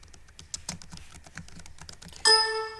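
Quick, irregular keystrokes on a computer keyboard, close and fairly quiet, followed by a bright electronic chime.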